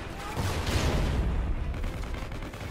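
Distant booming gunfire and a rocket blast in a Call of Duty match, a dense rumbling barrage that swells early and stays steady and muffled without clear individual shots.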